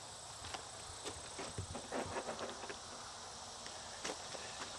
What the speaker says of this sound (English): Yeah, I adore this horse.